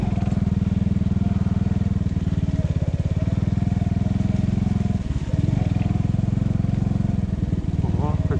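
An enduro motorcycle engine drones loud and steady at close range while riding off-road toward a swamp through dense growth, with brief throttle dips and small pitch changes, under occasional rider speech.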